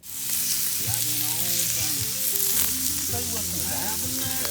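A Scotch fillet steak sizzles on a hot cooking rock set in a campfire, giving a steady loud hiss throughout with tonal whistles and squeaks threading over it.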